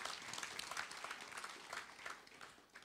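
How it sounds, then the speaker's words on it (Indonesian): Church congregation at a Good Friday service claps together in a faint, distant burst of applause lasting a few seconds. "Kasih tepuk tangan buat Tuhan Yesus"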